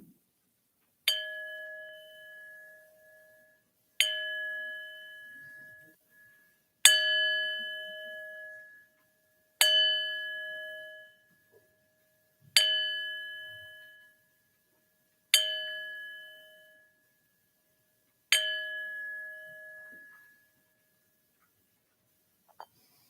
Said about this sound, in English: We open our service yet again by ringing the bell 7 times